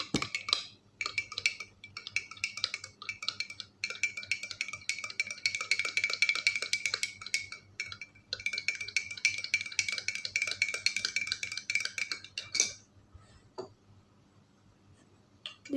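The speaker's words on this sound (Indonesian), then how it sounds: "Dan kita aduk sampai merata." Batter for donuts being stirred in a bowl after an egg goes in, a quiet, busy run of scraping and light clinking taps that stops near the end.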